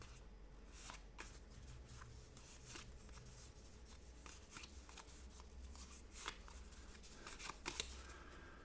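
Board game cards from the Apiary Hive expansion shuffled by hand, a steady papery riffle and slide of flicking cards close up, with small sharper snaps near the end and no talking.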